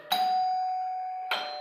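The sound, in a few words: electric call bell ringing in a hotel-wiring demonstration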